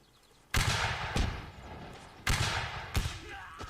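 Loud, sharp gunshots ring out in a Mount and Blade North & South mod line battle, four distinct shots in two pairs, each with a booming echoing tail.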